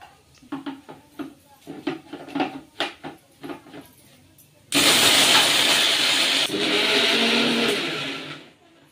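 A mixer grinder whirs loudly and steadily as it grinds masala, kicking in abruptly after a stretch of speech and running continuously, its tone shifting partway through.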